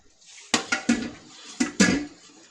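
A spoon stirring mock lemon pie filling in a pot over low heat: five or six distinct metallic scrapes and clinks in two quick clusters, close and clear with little background.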